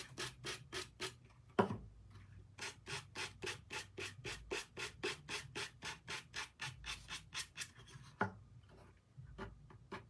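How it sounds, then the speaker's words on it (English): Sandpaper rubs back and forth across a decorated craft piece for a bunny tier tray, making close, rhythmic rasping strokes in a steady series, with a couple of sharper knocks between passes. "let's just take this off with some sandpaper"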